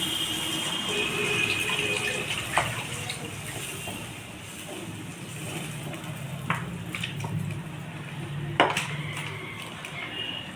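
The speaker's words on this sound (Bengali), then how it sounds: "মশলাটা কষানো হয়ে গেছে এবারে জল দেবো" Water is poured into a mustard-paste masala cooking in a pan for a snakehead fish curry with raw mango, a soft gushing splash with a few sharp utensil clinks against the pan.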